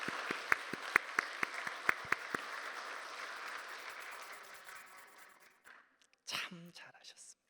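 A church congregation applauds, with a few sharp claps standing out over the faint, distant patter that fades away, before someone speaks briefly.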